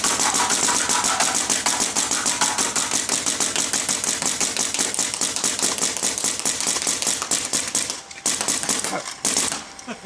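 A Dye DAM paintball marker fires in a rapid, steady stream of loud, sharp mechanical shots, close and continuous for several seconds before a brief gap and a final burst.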